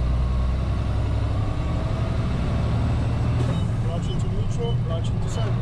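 A truck engine on a road test with a 10-speed gearbox, a loud continuous low rumble that shifts in tone as gears change, heard from the cab with a voice talking over it.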